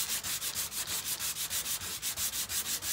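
Hand sanding with 120 grit sandpaper on a Karmann Ghia torsion plate cover gives rapid, even back-and-forth rasping strokes, about five per second, close and fairly quiet with no talking.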